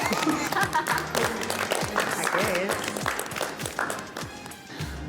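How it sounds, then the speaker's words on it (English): Contestants and audience applaud at a competition show nearing its finale, a lively burst of clapping with voices mixed in beneath it. "you can give yourself a round of applause"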